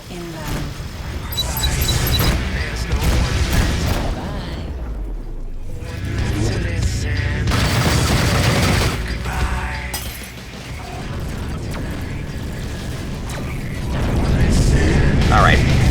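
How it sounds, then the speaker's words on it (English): Video game missile strike with heavy explosions, long rumbling booms and crashing debris filling the mix, with a player talking over parts of it. "Missile inbound."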